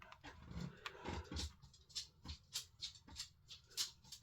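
Dog panting after climbing up indoors, a soft rapid series of breathy pants in a steady rhythm, close but faint, with light shuffling early on and no talk.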